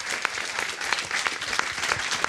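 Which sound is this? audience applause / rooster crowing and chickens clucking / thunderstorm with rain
audience applause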